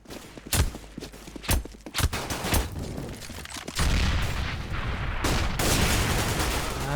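AK-47 gunfire in a Counter-Strike match at IEM Katowice: several sharp single shots and short bursts first, then a dense sustained barrage of rapid automatic fire with scattered footsteps, all loud and close.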